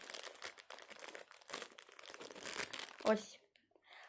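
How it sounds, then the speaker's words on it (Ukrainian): Soft plastic crinkling and rustling up close, with one sharper crackle near the end, as a crochet hook is slipped into a plastic bag. "Зараз крючок в пакет положу."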